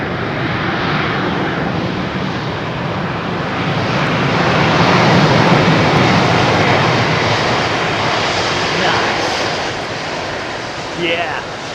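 A London Heathrow airliner landing roars broadband and loud, swelling mid-clip then easing as the pilot applies rudder to straighten it, with faint talk over the engine noise.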